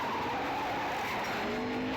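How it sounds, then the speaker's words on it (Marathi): Stunt car in a racing video game driving along a stunt track, with a continuous loud tire skid squeal and engine whine held throughout, no talk. "गाडी चालली स्टंट गाडीच्या ट्रकवरून"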